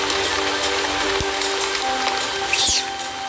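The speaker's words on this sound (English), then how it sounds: "Torrential rains batter the forest for months on end." Torrential monsoon rain pours onto a forest as a steady, dense hiss with a few louder drops and splashes standing out, sustained throughout.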